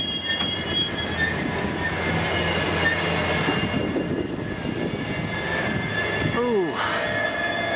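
The Rocky Mountaineer passenger train rumbles along the tracks into Banff station, wheels squealing and screeching as it rolls in, loud and steady.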